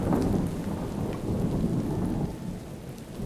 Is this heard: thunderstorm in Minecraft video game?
yes